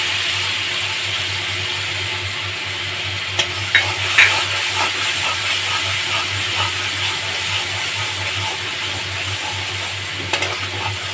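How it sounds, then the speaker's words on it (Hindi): Coriander-cumin paste fries and is stirred in a pan, a steady close sizzle under a low hum, with a few sharp clicks of a spoon against the pan midway and near the end. "अब इसमें हम धनिया जीरा पेस्ट डाल देंगे।"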